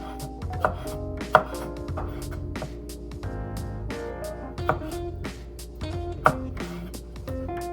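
Knife chopping garlic for a corn and bean salad, a few sharp, well-spaced cuts on a board under a continuous musical backing.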